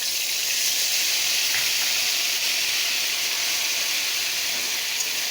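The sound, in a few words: ginger and cumin paste frying in oil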